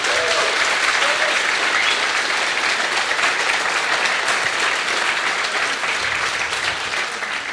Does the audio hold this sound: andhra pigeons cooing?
no